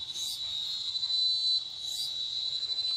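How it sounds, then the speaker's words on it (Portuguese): Cicadas sing in a steady high-pitched drone beside a river, swelling twice in brief louder bursts, with faint bird chirping in the background. "Não existe fundo musical mais perfeito do que esse, ao som das cigarras."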